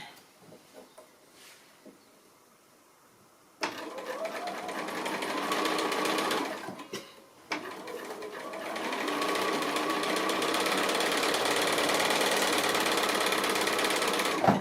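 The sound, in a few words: sewing machine chain piecing quilt diamonds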